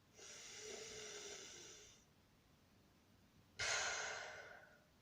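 Two long, breathy exhalations through pursed lips during a breathing exercise done lying on the back, the first steady for about two seconds, the second sharper and stronger after a quiet pause.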